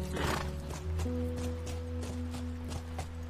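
In The Last of Us Remastered, a horse whinnies loudly up front and then its hooves clip-clop at a walking pace over a steady low hum.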